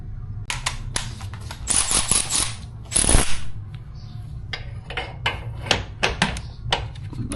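A ratchet wrench loosens bolts on the headlight ballast of an Infiniti G37, 2008-2013, with close, sharp metallic clicks and rattles in irregular bursts and brief pauses between them.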